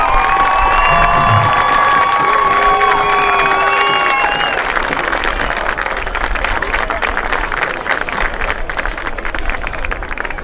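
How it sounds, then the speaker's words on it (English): A crowd at a high school varsity football game between Almont and Richmond applauds and cheers for graduating seniors. The sound is loud, dense and steady, with shouts and whistles over the clapping, and some overlapping tonal sounds early on. "Please give these seniors a big round of applause."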